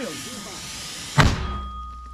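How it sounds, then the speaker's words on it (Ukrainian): A single sharp, heavy mortar boom bursts out after a quiet stretch with a voice, then its echo fades into ringing stillness. "Постріл!"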